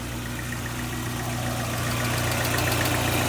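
A Mazda Miata M Edition engine idles steadily up close, a continuous low rumble with a faint mechanical ticking running through it and no other sound.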